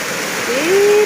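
Steady rain falls with an even, close hiss. A short voice-like tone rises near the end.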